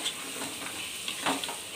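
Spices frying in oil in a kadai, giving a steady broadband sizzle with crackle and occasional stirring scrapes, close and continuous, with no talk.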